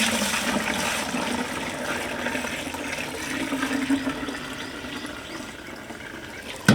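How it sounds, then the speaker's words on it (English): Fresh milk poured into pails on a farm, a continuous close rush and splash of liquid filling a container, steady throughout with a brief knock at the end, no talk. "these are the pails we pour up the milk into when we're done"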